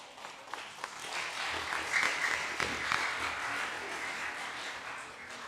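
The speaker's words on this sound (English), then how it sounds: "Thank you very much for clapping for us" An audience clapping at a children's climate summit, a moderate round of applause that builds, holds and slowly thins, heard from a little distance.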